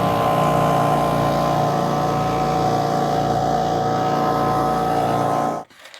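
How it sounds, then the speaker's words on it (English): A shop generator runs loud and steady at close range, its engine drone holding constant for several seconds before it cuts off abruptly near the end, with no voices over it. "I'm going to crank the generator up, and it's going to be a little loud"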